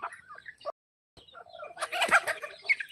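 Native country chickens on a poultry farm cluck in close, scattered bursts, falling briefly silent before a busier, overlapping stretch of clucking.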